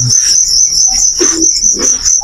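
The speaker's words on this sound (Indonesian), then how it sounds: "Koleksi jangkriknya. Jangkrik aduan." Fighting crickets at a cricket farm chirp in a shrill, continuous trill, loud and close, with a few soft knocks and rustles underneath.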